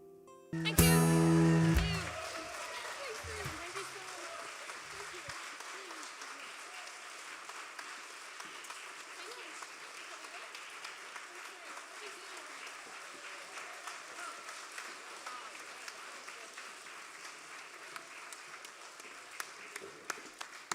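An audience at the Polska Eire Festival applauds the singers after their song, a dense, sustained wash of clapping that follows the last sung notes and continues steadily without fading.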